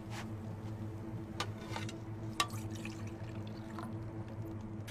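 Water pours steadily into a vessel in a historical drama setting, a continuous splashing trickle with a few brief clinks over a steady low hum.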